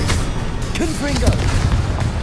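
A Confringo fire spell bursts in Hogwarts Legacy, a short heavy boom with crackling blast noise and brief tonal voice sounds over a constant loud game backdrop.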